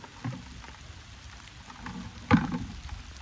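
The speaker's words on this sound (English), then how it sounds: "it's starting to rain harder" Steady rain falls outdoors on a cattle farm, a constant soft hiss across the whole stretch with a brief louder patter burst partway through, no talk over it.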